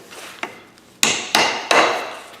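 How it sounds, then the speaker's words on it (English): Sharp hammer blows on wood, three loud strikes spaced about a third of a second apart after a lighter tap, with no one speaking. "Bigger hammer."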